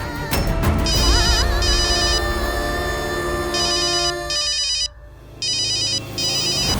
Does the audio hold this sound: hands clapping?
no